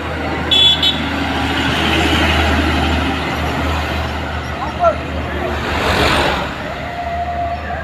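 Heavy trucks and buses roll past on a road in West Sumatra at night, a steady broadband engine and tyre roar with a brief horn toot near the start and a louder swell as one vehicle passes close around the sixth second.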